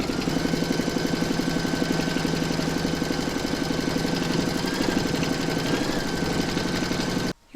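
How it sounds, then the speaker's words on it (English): A sewing machine runs steadily, stitching through batting and backing fabric on a doll project, with a fast, even mechanical whir and needle rhythm that cuts off abruptly at the end. "You can now pop that back into your machine and stitch round number 2"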